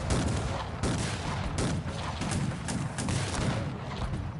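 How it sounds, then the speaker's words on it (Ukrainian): Howitzer artillery fire in the strategy video game Cossacks 3, with a dense, continuous barrage of booming cannon shots and crackling gunfire, loud and overlapping throughout. "І гаубиці стріляємо, стріляємо. Зараз покажемо, як треба артилерією працювати."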